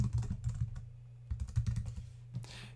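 Typing on a computer keyboard while entering a new folder name, with bursts of clicking keystrokes in quick irregular runs separated by short pauses, close and fairly quiet.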